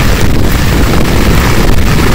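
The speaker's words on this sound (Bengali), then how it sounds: "প্রচুর বাতাস চলছে, সম্ভবত ভিজে যাবো গা" Loud, blustery wind in a Bangladeshi village during the rainy season batters the microphone in a dense, continuous low roar with gusty fluctuations, no voices present.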